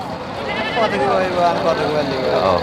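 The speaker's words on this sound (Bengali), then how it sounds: "অনেক ছাগল আসছে" Several goats bleat in wavering cries amid a busy crowd at a goat market, with people talking throughout close by.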